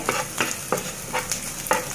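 Chopped onion and garlic fry in a pan, with a constant sizzle broken by four or five sharp stirring scrapes at roughly regular intervals, heard up close and without talk.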